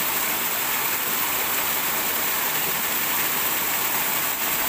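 Rain falling as a steady, dense hiss that fills the whole stretch, fairly faint and even, with no talk.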